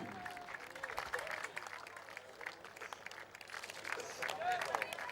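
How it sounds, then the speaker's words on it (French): Applause for the Vanuatu delegation at the opening ceremony of the Mini Pacific Games in Wallis and Futuna, a crowd clapping steadily throughout, fairly distant, with a voice talking over it. "On applaudit la tenue vestimentaire des îles Vanuatu"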